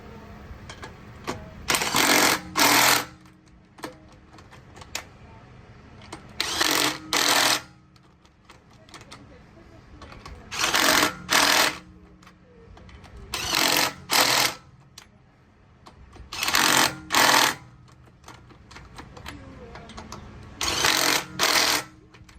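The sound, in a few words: power tool tightening wheel lug nuts on Toyota Tundra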